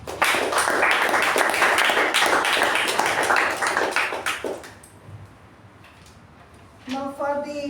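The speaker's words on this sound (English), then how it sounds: "And a big round of applause to Toastmaster Sachin." Audience applause at a Toastmasters club meeting for Toastmaster Sachin, dense clapping for about five seconds that fades out, then a brief quieter stretch before a voice begins speaking.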